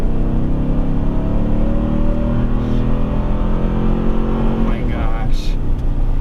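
A 2023 Toyota Tundra Limited pulling a trailer of nearly 6,000 pounds accelerates toward highway speed, its engine a loud, steady drone with rising tone and constant road rumble beneath.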